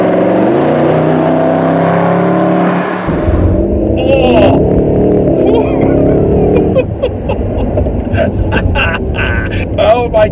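A Mercedes SLS AMG engine roars hard under fast acceleration, loud and sustained through rising gear pulls with a shift partway through, while a driver's exclamation breaks in over the engine noise.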